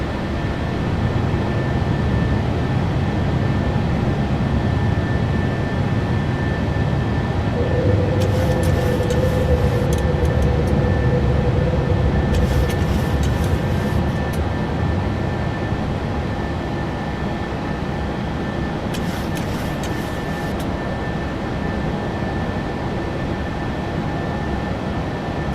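A PMDG 737-800 in a flight simulator rolls down the runway at Bozeman for takeoff, a steady loud engine roar with a constant whine and a few brief rattling bumps, with no talking.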